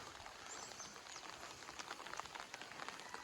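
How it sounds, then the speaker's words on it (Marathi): A light morning drizzle falls in a Konkan village near Devgad, making a faint, soft patter of fine drops with a few slightly sharper ticks and no talking. "बारीक बारीक पाऊस पडतोय"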